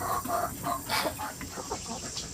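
Farm chickens cluck in a rapid, uneven series of short nearby calls, several birds overlapping with no talk.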